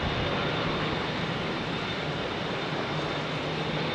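A jet airliner taking off from runway 27R at London Heathrow gives a long departure, with a steady, loud broadband engine roar that holds evenly throughout at close range.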